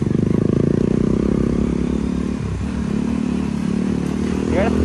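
A Crossfire motorcycle engine pulling hard under acceleration, a continuous low, steady drone heard from the rider's position, with people talking over it.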